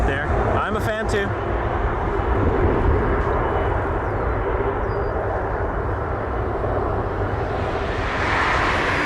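A Condor airliner taxiing and turning on a taxiway at Toronto Pearson airport, a steady broad jet engine roar that stays loud throughout, with faint brief clicks near the start.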